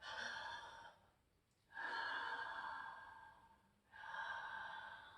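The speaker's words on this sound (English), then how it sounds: "it's also called the ocean breath because it makes a sound" Ujjayi ocean breath in yoga, air drawn slowly through a constricted throat: two long, soft breathy hisses with a quiet pause between them, close and steady, with no talking.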